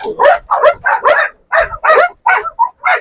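A Turkish Kopay hunting dog barks loudly and repeatedly at close range, short sharp barks in an uneven rhythm with brief gaps between them.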